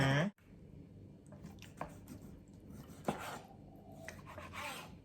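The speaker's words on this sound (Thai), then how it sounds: "มาสไลด์ไก่เนาะมาหั่นไก่ก่อนนะคะ" A knife slices raw chicken breast on a board in quiet, irregular strokes, with faint squishy scraping and occasional light taps close up.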